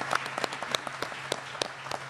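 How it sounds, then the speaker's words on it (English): Sparse, scattered clapping from a small audience applauding a panel after a policing presentation, individual claps distinct and fairly close, thinning out over a couple of seconds. "give the panel a round of applause for their presentation"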